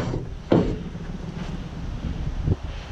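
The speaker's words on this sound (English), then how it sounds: "Wind wants to take my damn straps away." Strong wind buffeting around a flatbed truck during load securement, a continuous rushing roar with two sharp gusts hitting the microphone.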